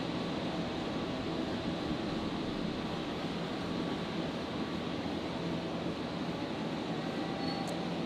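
An aircraft departs on runway 01 right at Brisbane Airport on a hot, humid night, a continuous broad roar holding steady and fairly distant throughout.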